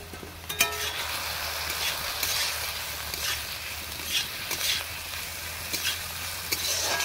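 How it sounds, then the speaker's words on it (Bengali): Onions and spices fry in a pan with a steady, close sizzle, broken by a few scraping stirs of a spoon across the bottom. "দিয়ে ভালোভাবে মশলাটারে আর পেঁয়াজটারে ভাজুন।"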